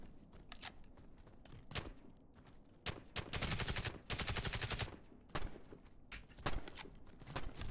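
Bursts of rapid automatic gunfire in Warface Mobile, some long sustained volleys and shorter rattles, separated by brief pauses, with no talking over them.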